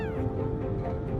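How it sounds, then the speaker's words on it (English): A very tiny kitten meows, a thin, sustained cry heard up close over a low, busy background hum. "I picked up this tiny little kitten"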